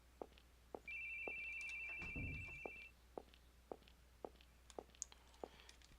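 A phone ringtone sounds as a steady electronic tone lasting about two seconds, faint, amid a series of soft regular clicks and a brief thump.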